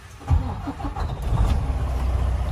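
A 2016 Freightliner Coronado 122 SD truck with 790,000 miles cranks briefly, then its diesel engine catches and settles into a loud, rumbling idle close by.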